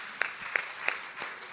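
Audience applause at a ministerial service excellence awards ceremony, a steady wash of clapping from many hands with a few sharper claps standing out, moderately loud and continuous for a brief stretch.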